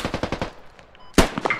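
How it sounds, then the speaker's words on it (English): Mortar fire in the military shooter game Squad on the Al Basrah map: a rapid burst of about five sharp reports, a brief lull, then one heavy close blast with ringing tail. "Using their own mortars again"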